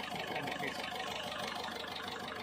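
A Ford Figo with an injector problem idles steadily, a close, even mid-pitched engine hum with a slight knocking texture and no speech.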